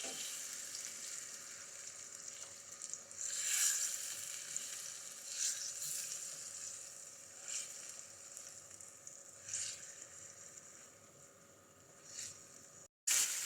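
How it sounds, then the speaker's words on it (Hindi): Chicken tikka pieces frying in a karahi on high flame: a quiet, steady sizzle that swells into a few brief crackling bursts, heard alone with a short cut near the end. "चिकन को 2 से 3 मिनट हाई फ्लेम पर फ्राई करेंगे।"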